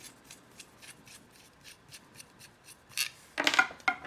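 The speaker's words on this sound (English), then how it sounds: "What you do is you take off the broadhead," Light rubbing, scraping handling sounds as a broadhead is unscrewed from an arrow, a series of soft rasps building to a few louder, sharper scrapes near the end.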